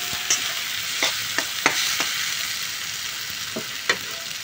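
Fried potatoes being stirred into egg curry masala with onion paste, chopped tomato and green chilli in a pan, giving a continuous sizzle broken by a few sharp spatula scrapes and clicks.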